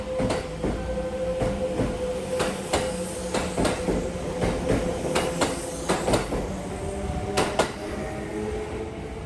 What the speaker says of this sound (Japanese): ちょうどよく回送列車として出発していくようなのでお見送り